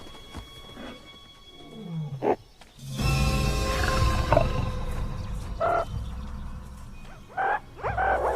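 A Kalahari desert lion calling, with a deep rumbling roar that swells and holds for a few seconds among scattered animal grunts and yelps close by in open wild surroundings.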